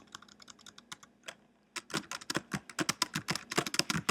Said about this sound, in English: as I keep typing, it just will keep going